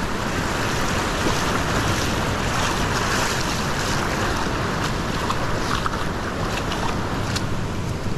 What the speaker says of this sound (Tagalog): ang hirap, lakas ng agos.